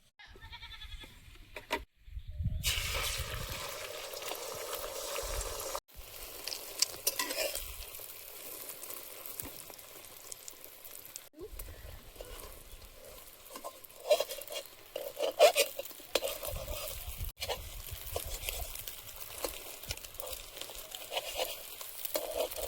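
Oil heats in a wok before a seasoned egg omelette with salt and ground black pepper goes in, giving a quiet hiss and sputtering sizzle with a brief gap near the start and intermittent stirring scrapes, with no speech.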